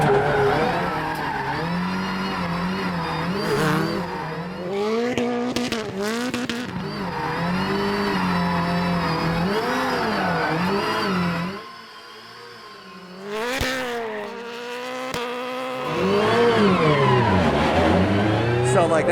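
Travis Pastrana's 862bhp Subaru Family Huckster spins into a reverse entry, its engine revving hard and rising and falling in pitch while the tires scrub and squeal. The sound is loud and close, with a brief lull before the engine surges again.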